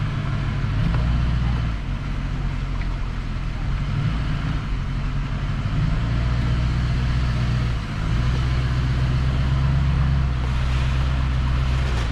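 A truck backing up a trailer, its engine a steady low rumble running close and continuous throughout, with a brief dip near the end and no voices.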